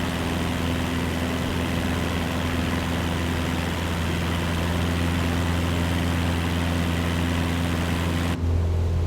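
Steady low engine drone of an airliner climbing out after takeoff from JFK in a flight simulator, a continuous even hum with low tonal lines holding throughout and no voices.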